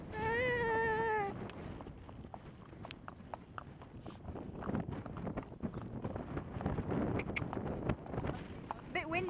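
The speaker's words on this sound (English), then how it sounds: "Charlie's trotting and I have one hand on the reins." A horse's hooves clip-clop at a steady trotting rhythm close by, amid wind noise, with a voice talking over much of it.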